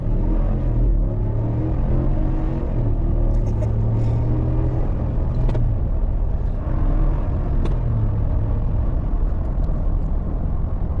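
A 2023 Ram 1500 pickup with the 5.7-litre V8 accelerates hard in max track mode, a steady loud low engine rumble with a rising drone and tire roar, alone without talk.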